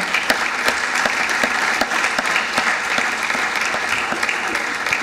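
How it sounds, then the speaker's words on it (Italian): Conference audience at a vending industry assembly giving sustained applause for the organizing staff, dense, even clapping from many hands throughout, loud and close. "io vi chiedo un grande applauso per tutta la struttura di Confida"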